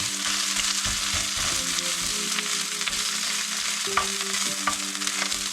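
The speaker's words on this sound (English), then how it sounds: "And just keep stirring there" Food sizzles steadily in a hot pan while a utensil scrapes and stirs, with occasional clinks and soft knocks close by.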